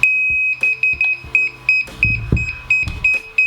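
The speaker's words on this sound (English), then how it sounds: "now that you hear the continuous beeping" A DJI Smart Controller for a drone gives a continuous run of short, high electronic pairing beeps in a quick, uneven rhythm, with a few soft clunks and handling noises underneath.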